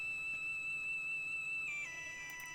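A Celeste synth patch pitched up an octave holds a bright, steady bell-like chord that shifts to new notes partway through, played quietly and alone.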